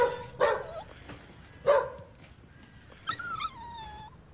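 A dog barks a few separate sharp times, close and fairly loud, followed by a higher whiny yip near the end.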